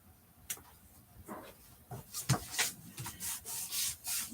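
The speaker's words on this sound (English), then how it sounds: "When I veered off with my knife there, I left a little weird corner, so I just trim that" A craft knife trims a small corner off a paper card during a Christmas card-making session, giving short, close scratchy scrapes and rubbing strokes in a loose, irregular series.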